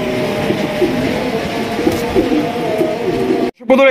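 A pair of yellow Bombay pigeons cooing up close in low, rolling calls, with a brief drop-out near the end.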